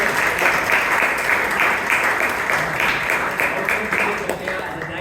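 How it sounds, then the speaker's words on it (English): Sustained audience clapping at a Toastmasters club meeting in Bangalore, a dense even round that holds steady for several seconds and eases slightly near the end. "He deserves a bigger round of applause."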